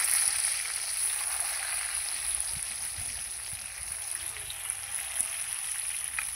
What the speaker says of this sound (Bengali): এই যে প্রথমে আমি কিন্তু বেগুনটা ভেজে নেব